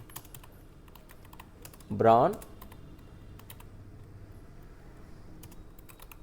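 Computer keyboard typing during a typing practice exercise in Notepad, sparse light key clicks spread across the stretch, with a short spoken word partway through.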